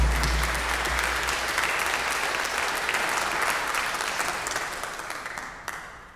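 An audience at a high school graduation applauds loudly and steadily for several seconds, the clapping thinning slightly toward the end before cutting off.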